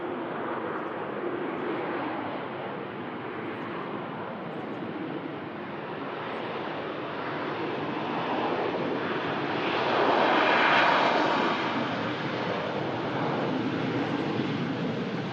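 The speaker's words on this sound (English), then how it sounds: "Norwegian Max climbs out. As the Jet2 73 just touches down." A Norwegian Boeing 737 MAX climbs out while a Jet2 737 touches down at Manchester Airport, making a steady, broad jet roar that swells to a peak near the end before easing slightly.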